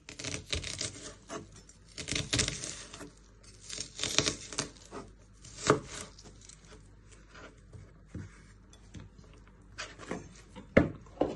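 A knife chopping vegetables into small pieces on a board while preparing a prawn, chorizo and bacon stew, heard as irregular quiet bursts of cutting taps and crisp tearing sounds with short pauses between.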